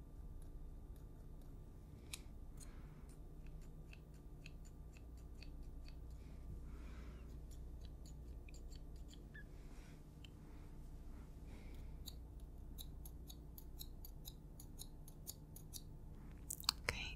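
Scissors trimming a beard in a close, quiet grooming setting, with repeated soft snips and small clicks spread throughout, low and intimate with no talking.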